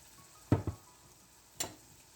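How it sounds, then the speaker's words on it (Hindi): Mushrooms and onions sauté in a pan: a faint steady sizzle runs throughout, broken by a few soft stirring knocks against the pan. "मशरूम और ऑनियन, इसको डाल के हमें अच्छे से सॉटे करना है।"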